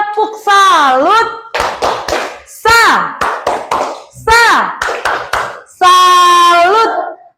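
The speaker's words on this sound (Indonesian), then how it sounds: "Kita tepuk salut dulu yuk. Tepuk salut." Grade 2 pupils and their teacher in an online Indonesian-language class doing the 'tepuk salut' clapping chant: bursts of rhythmic claps alternating with loud sung or chanted vocal phrases, close and lively.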